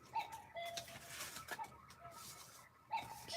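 A bird calling repeatedly indoors near a card-making desk, with brief mid-pitched cooing or chirping notes recurring every second or so, moderately faint against room noise.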